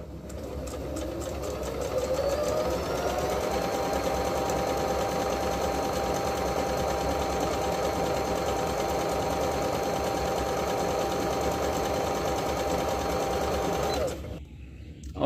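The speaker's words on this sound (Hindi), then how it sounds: "ये ट्रिपल सिलाई है" A Singer Pitline 6700 sewing machine sews a triple stitch, giving a steady, fast mechanical whir close to the microphone that runs without a break for about fourteen seconds before stopping.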